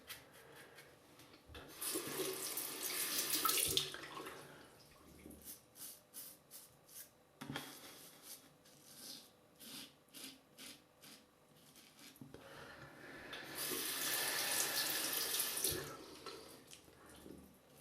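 A Merkur Bakelite double-edge safety razor is rinsed under a running tap, with two bursts of gushing water at the start and end and soft tapping and rubbing sounds in between, close and clear with no talk.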